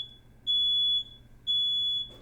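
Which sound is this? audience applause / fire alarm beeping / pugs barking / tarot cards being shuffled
fire alarm beeping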